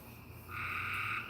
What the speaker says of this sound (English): Yeah, are they really loud? Yeah, the frogs.